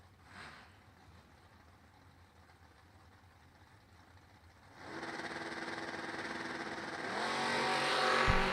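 Drag race cars, including an S10 Blazer, start as a faint distant idle, then swell into a loud sustained engine roar that grows stronger toward the end.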